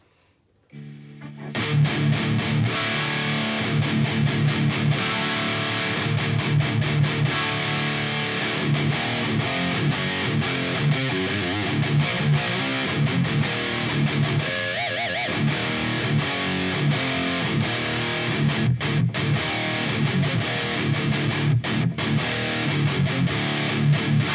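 A loud, dense distorted Ibanez GIO GRG131DX electric guitar plays continuously, with a steady stream of strummed and picked chords starting after a brief silent lead-in.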